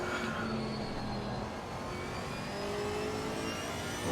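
A race car engine in the racing video game ACC drones at high revs during a six-hour race at Silverstone, holding a steady whining pitch with slight rises, loud and continuous without a break.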